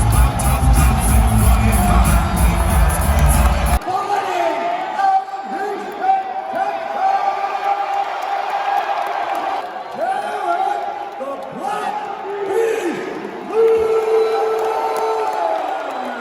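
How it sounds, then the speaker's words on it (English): An arena crowd at a fight event cheers and roars for fighter Derek Lewis as he walks out, a loud, sustained wall of shouting and whooping with voices heard through it. "The crowd was going absolutely mental for Derek as he came out."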